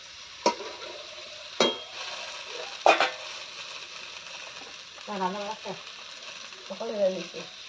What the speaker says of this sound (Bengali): এখানে ছোট ছোট আলু আর চিম একখানে ভাজা করা হচ্ছে